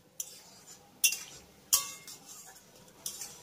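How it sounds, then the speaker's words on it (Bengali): A metal spatula taps and scrapes a frying pan as drumstick fritters are turned, four sharp, clear clinks spaced about a second apart over a faint background hiss. "খুন্তির সাহায্যে বড়াগুলোকে এইভাবে নেড়ে চেড়ে ভেজে নেবেন"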